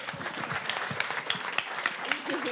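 Audience applause for prize winners at the Prix Saint Maur en Poche 2014 book award ceremony, brisk dense clapping from a hall crowd with a few sharper claps standing out, fairly close and steady.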